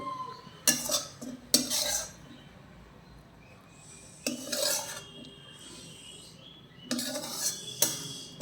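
Clinking dishes and cutlery as a tiffin lunchbox is packed with food, several sharp bursts of clatter separated by quieter handling, fairly close with no talk.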